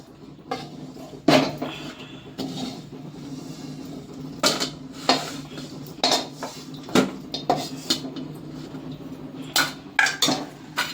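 Hot chikki mixture is scraped out onto an oiled plate, a run of sharp metal clinks, scrapes and knocks from a spoon and vessel, irregular and close, with no talking.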